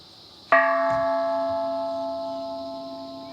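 One of several differently tuned bells at Ton Yuan, Thailand, struck once, giving a bright metallic clang that rings on with a long, steady, gradually fading tone in an open outdoor setting.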